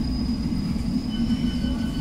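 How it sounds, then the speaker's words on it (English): A London Underground District Line train running between Hammersmith and Richmond, a steady low rumble with a thin whining tone on top, continuous and fairly loud throughout. "This is the District Line train to Richmond."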